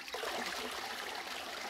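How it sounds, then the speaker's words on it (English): Toilet flush in the video game Minit: a steady rush of draining water that runs through the whole short stretch at even loudness, with no voices over it. "We flushed it down the toilet"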